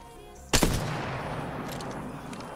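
The Longbow sniper rifle in Apex Legends fires a single loud, sharp shot that cracks suddenly and then decays into a lingering rumble and echo.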